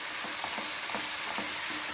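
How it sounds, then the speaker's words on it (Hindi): Tomato puree sizzles and fries steadily in a pan while being sautéed, a close, continuous hiss with soft spatters and occasional stirring scrapes, no voices. "देखो ये भून रहा है, इसको अच्छी तरह हमने भून लेना है।"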